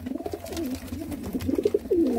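Many pigeons in a loft or holding pen up for sale coo over one another, with overlapping rolling, throaty calls that swell and fall near the listener, a few individual coos standing out clearly toward the end.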